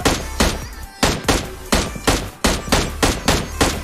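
Rapid gunfire in a battle royale esports match, a string of about a dozen sharp, evenly spaced loud shots repeating roughly every quarter second over a constant game background.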